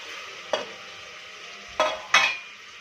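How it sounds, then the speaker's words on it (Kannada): Tomatoes fry with mint and coriander leaves in a pan under a soft, steady sizzle, broken by three distinct scraping stirs of a spatula. "2 ಮಿನಿಟ್ಸ್ ಫ್ರೈ ಆಗೋದು ಬಿಟ್ಬಿಡಿ"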